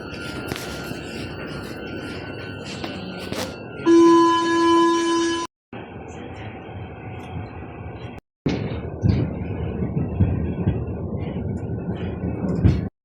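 A Paris metro train pulls into the station, its rumble and rail noise filling the platform, with a loud steady tone partway through, a couple of abrupt cuts, then renewed rolling clatter.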